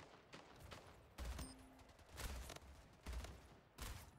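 Assault rifle fire in the first-person shooter Splitgate, coming in rapid bursts of automatic shots separated by short pauses, fairly quiet and steady, with no talk over it.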